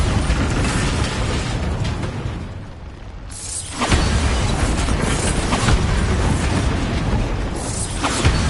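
Bombarda spell blast in Hogwarts Legacy, a loud burst and rumbling explosion followed by ongoing debris and mechanical clatter, with a quieter lull before a second surge of crashing noise.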